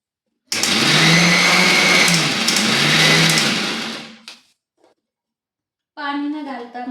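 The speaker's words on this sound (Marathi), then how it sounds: "खसखस आणि खोबरं कांदा आणि लसूण भाजलेला आहे तो पण बारीक करून घेऊ आपण" A mixer grinder whirs loudly for about three and a half seconds, grinding roasted poppy seeds, coconut, onion and garlic, then winds down and falls silent. A voice speaks briefly at the end.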